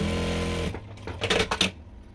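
A sewing machine stitches canvas onto saree fabric, a brief burst of rapid mechanical needle clatter in a quiet room after a low hum fades.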